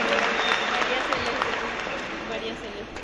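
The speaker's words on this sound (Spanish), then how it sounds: "Un aplauso para la mamá de ella también." Audience applause at a Catholic question-and-answer gathering led by a priest, a moderate wash of clapping from a crowd that holds steady and eases off slightly toward the end.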